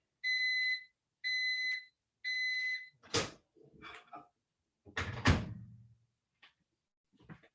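An oven timer sounds three evenly spaced, clear electronic beeps in a quiet kitchen, followed by a few knocks and clatters of handling.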